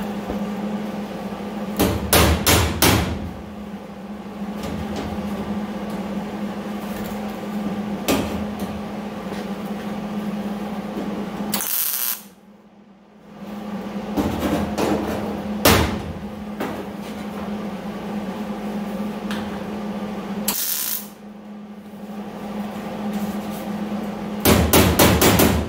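Hammer tapping sheet metal into place on a 1949 Chevy Fleetline custom tail panel during welding repair, sharp metallic strikes in clusters and single blows over a steady low hum, with a few brief quiet gaps.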